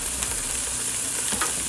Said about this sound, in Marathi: त्याच्यामध्ये मी टोमॅटो टाकतो.